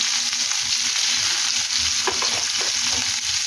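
Garlic and onion frying in oil in a wok, a close, constant sizzle with spatula stirring and a few scraping knocks near the end, no speech.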